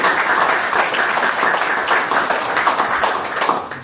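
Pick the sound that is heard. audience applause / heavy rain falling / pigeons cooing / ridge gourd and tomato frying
audience applause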